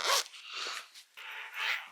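A replaced zipper on a jacket is pulled in quick, close rasping strokes, about four short zips in two seconds with brief gaps between.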